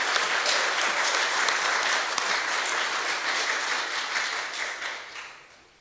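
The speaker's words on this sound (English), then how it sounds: "Another round of applause for Hayley, please." An audience at an Australia Day celebration in Lucindale gives a round of applause: brisk, moderately distant clapping that holds steady, then tapers off and fades near the end.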